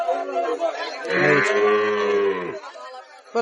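A single drawn-out moo from a Sahiwal bull calf, close and loud, lasting over a second, with faint voices chattering around it.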